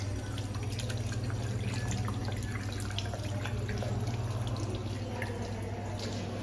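Water runs steadily from a tap with soft dripping and splashing detail, a continuous faint wash over a low steady hum, with no voices.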